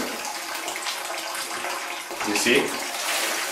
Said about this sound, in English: You just put some hot water in your wash basin and then you add maybe one of this of dry ice.